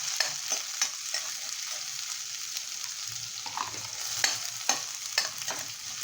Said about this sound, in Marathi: लसूण छान अशी परतली ना की आपण मग हा कांदा ॲड करायचा आहे